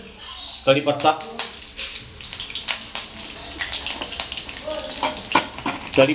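Curry leaves, chilli, garlic and cumin sizzle and crackle in hot oil for Mumbai-style egg bhurji, with bursts of spitting close by and a voice talking over it in places.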